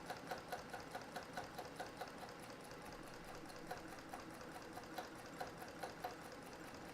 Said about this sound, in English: I'm just trying to practice my free motion quilting